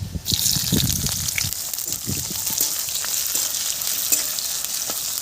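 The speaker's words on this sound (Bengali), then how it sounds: "পেঁয়াজ ভাজা হয়ে গেছে" Chopped onions fry in hot oil in a wok, a loud close crackling sizzle with frequent popping spatters and stirring scrapes throughout.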